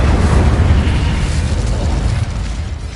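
A loud, continuous fiery whoosh erupts from a fire spell in the video game Hogwarts Legacy, a dense roaring burst that fills the whole stretch and slowly eases off toward the end.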